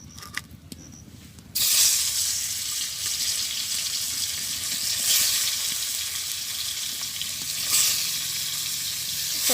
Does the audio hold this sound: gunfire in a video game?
no